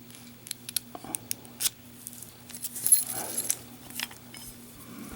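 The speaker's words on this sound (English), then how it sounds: "Make sure these keys work." Two keys for a padlock roughly 7 inches long jangle and clink in scattered bursts as the lock is tested, close by and fairly quiet, with no talking.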